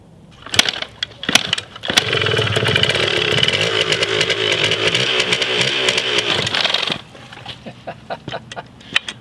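A Yamaha Enduro DT 125 two-stroke dirt bike engine with clutch problems revs and sputters in short bursts, then holds a steady high-pitched buzzing run for several seconds before dropping back to uneven pops.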